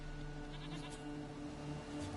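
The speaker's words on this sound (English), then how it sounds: "I can hear the goat." A goat bleats in The Witcher 3, a soft, fairly quiet animal call over a steady hum of game ambience, with no talking.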